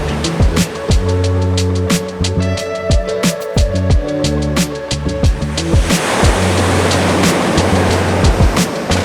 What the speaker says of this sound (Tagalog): Kaso ang laki ng alon